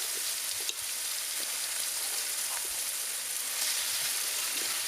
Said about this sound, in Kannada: ಚಿಕನ್ ಗೀರ್ ರೋಸ್ಟನ್ನು ಹಾಕ್ಕೊಡುವ